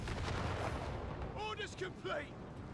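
Artillery and Panzerfaust fire from German Grenadiers hits a Crusader tank in the real-time strategy game Company of Heroes 3, heard as muffled thuds and booms beneath someone commentator talking over the battle.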